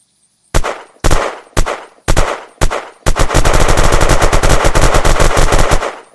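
A Pro 90 gun fires in the video game Unturned: five separate loud single shots, then a sustained rapid burst of automatic fire, close and sharp with no other sound.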